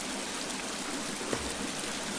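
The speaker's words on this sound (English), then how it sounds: "I don't know if you can hear me over that roaring waterfall." Roaring waterfall in the survival game The Forest, a dense, steady broadband rush of falling water filling the whole clip at an even level, with no voices.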